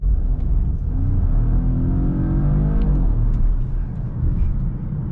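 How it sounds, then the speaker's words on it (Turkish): Steady, moderately loud petrol engine drone from a Volvo XC40 T5 Recharge plug-in hybrid, running smoothly with a low continuous rumble and slight pitch shifts as it pulls along, no talking over it. "Aslında bakarsanız benzin motorunun da çok bir sesi yok. Motor çalışıyor şu anda."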